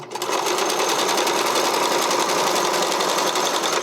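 A sewing machine runs a continuous zigzag stitch along the edge of fabric for a figure skating skirt, a rapid, even mechanical whirr and chatter held at close range without pause.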